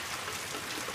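Heavy rain driven by strong wind during a flood in Costa Mesa, a dense, even hiss of drops pelting surfaces without a break.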